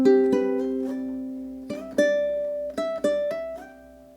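Measures nine and ten of a slide technique étude are played on a ukulele, several plucked notes ringing out cleanly with gliding pitch changes between some of them, close and fairly soft, with no talk.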